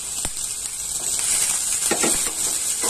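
Chopped onion, garlic and chili sizzle in a hot pan with a steady close hiss, broken by a few brief crackles and stirring taps.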